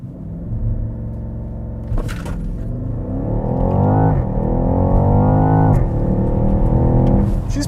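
A 2020 BMW X6 M50i launches hard with launch control, its engine note sweeping up in a loud, rising roar after a brief rumbling idle, then climbing again through the next gear.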